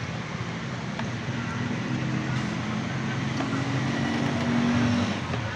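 A 2013 Toyota Vitz engine runs at idle while its broken ground wire is being repaired, a steady low hum and rumble with slight tonal shifts, close and continuous without speech.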